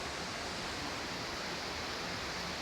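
River water flows in a steady, even broadband rush, a continuous hiss of moving water with no breaks or other sounds, faint in level.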